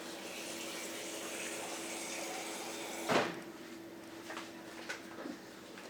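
Water runs steadily, like a tap filling, as it is added to spring roll wrapper batter, then stops abruptly with a splash and a few faint knocks afterward.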